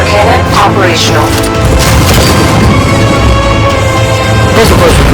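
Batmobile 60mm cannon in Batman: Arkham Knight firing amid loud, dense game action, with heavy booming and crashing impacts throughout and a voice speaking over the din.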